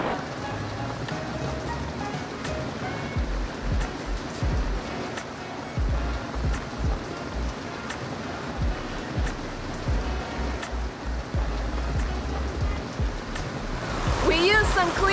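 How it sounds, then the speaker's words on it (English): Heavy rain drums steadily across a boat's deck, a dense continuous patter with splashes and water movement throughout, and some talking faintly underneath. "what it looks like when it's raining this hard"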